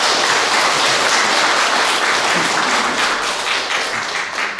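Loud, dense applause from a lecture audience thanking a visiting church history lecturer. The clapping is sustained and close, then tapers slightly toward the end, with no talking.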